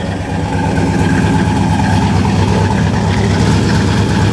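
A cammed Ford Explorer with a 5.0 V8 idles steadily through its exhaust, a loud, continuous low rumble with a slightly lumpy rhythm and no talk over it.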